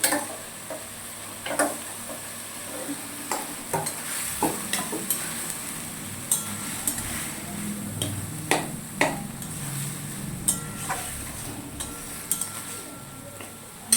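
Ghugni of boiled peas and a little potato is stirred in a pan, a steady low sizzle beneath repeated scraping and clinking strokes of a spoon against the metal, close and fairly loud, with no talking.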